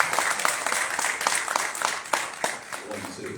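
Audience applause at a Safe Summer summit event at Lincoln Hospital in the Bronx, a steady wash of clapping from a crowd with sharper individual claps standing out, continuing throughout.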